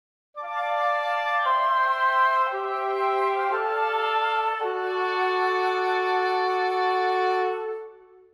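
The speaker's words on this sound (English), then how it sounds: "try using one oboe and one" Flute, oboe and clarinet sound a sustained woodwind chord, clarinet on the bottom voice, moving through several smooth chord changes before fading at the end; close, steady, with no voices.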